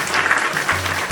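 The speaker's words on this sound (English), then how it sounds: "Round of applause, ladies and gentlemen, for Ash." Brief applause for a guest on a wrestling podcast, a short steady burst of clapping with a low hum underneath.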